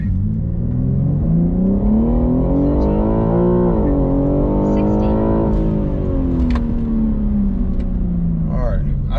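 A 2021 BMW G80 M3 Competition launches under launch control with traction off, its engine note climbing loud and close as it pulls hard through the gears, a brief dip at a shift before the rising roar continues.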